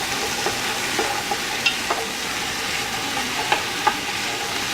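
Sausage and okra fry in a pan with a steady sizzle, while occasional scrapes and taps of a utensil stirring them stand out against the hiss.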